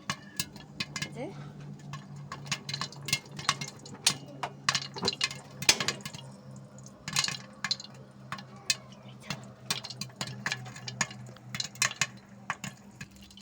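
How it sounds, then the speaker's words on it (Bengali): Popcorn popping inside a covered pan on the stove, a steady scatter of sharp little pops and ticks over a low hum, close and fairly quiet, with no speech. "এই যে অনেকগুলো পপকর্ন হয়েছে। এই যে এখনও ফুটতেছে।"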